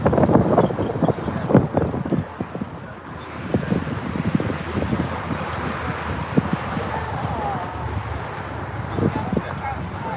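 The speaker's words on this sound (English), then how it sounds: "It's windy as hell." Strong gusty wind buffets the microphone at an outdoor protest in Fort Worth, making a constant low rumble that runs through the whole stretch while people talk close by.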